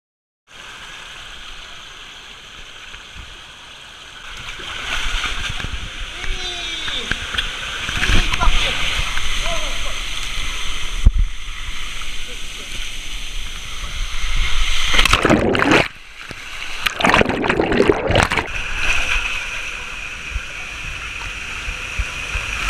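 Rushing, splashing water in a bowl slide at a resort water park on Rhodes, swirling and churning as a rider goes down, with louder bursts of splash and surge toward the end.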